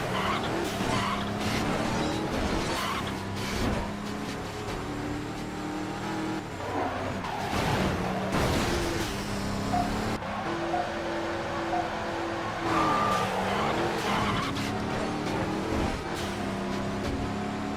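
Street racers in Midnight Club 3: DUB Edition Remix roar through a race, with engines revving and shifting, tires squealing through hard skids, and cars whooshing past, all dense and continuous with changing pitch.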